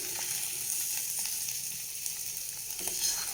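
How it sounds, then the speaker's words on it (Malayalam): Sliced onion sizzles in hot oil in a pan for a snack, giving a steady, bright crackling hiss with faint stirring clicks scattered through it, close by and continuous, with no talking. "ഇതിൻ്റെ മേലെ ഇട്ട് കൊടുത്താൽ കരിയാതെ ഈ എണ്ണയിൽ ഇത് പച്ചമണം മാറിക്കിട്ടും"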